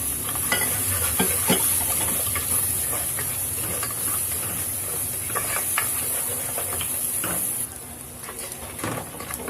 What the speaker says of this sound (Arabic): هنزل التوابل دي كلها، اديها تشويحه برده مع البصله عشان ريحتها تطلع معايا